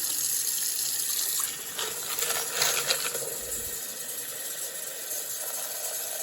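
Water from a garden hose rinses wet-tumbled brass cases, a steady hissing spray with brief splashing and rattling bursts in the middle, heard close and alone.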